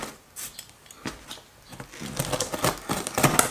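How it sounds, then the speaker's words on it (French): Small scissors cut open a cardboard parcel in a series of irregular snips and rasping scrapes close up, growing busier toward the end. "une petite paire de ciseaux, hein. On va ouvrir ça gentiment et proprement."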